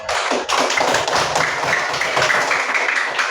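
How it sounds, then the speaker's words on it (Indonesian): Classmates in a school classroom applaud for a student, with a burst of brisk, close clapping that holds steady for a few seconds with little talk. "tepuk tangan dulu untuk Al-Ghazali"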